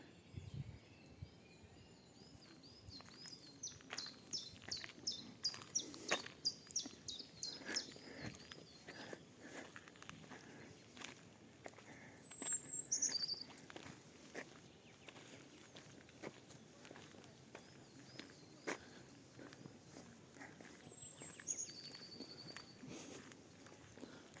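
Footsteps crunch steadily along outdoors in spring in Truskavets, Ukraine, while faint bird chirps and calls come and go in the distance.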